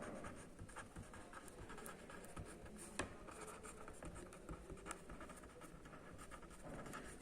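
Pen or marker writing on paper or a board while working a structural mechanics problem on second moment of area: quiet, close scratchy strokes in short irregular bursts, with a sharper tap near the middle and no talking.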